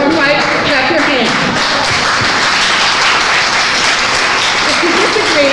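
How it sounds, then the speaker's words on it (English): A crowd at an economic development forum claps hands in agreement, a dense, loud, sustained patter of many hands filling the room, with voices talking and calling out underneath. "If I'm right, clap your hands."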